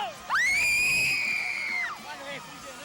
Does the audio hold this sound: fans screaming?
yes